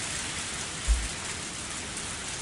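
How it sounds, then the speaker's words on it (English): Heavy rain in the video game Higurashi: When They Cry, a dense, steady, loud hiss of rainfall with a brief low rumble near the start, no voices over it. "Loud rain!"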